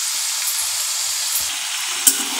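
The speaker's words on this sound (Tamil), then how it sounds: "இப்போது ரெட் கலர் மிளகாய் மிட்டாயை நம்ம இதில் போட்டு பொரிச்சுக்கலாம்." Red chili-shaped milagai mittai candy deep-frying in oil over a medium flame, a loud, dense, unbroken hiss of bubbling oil up close, with one brief clink near the end.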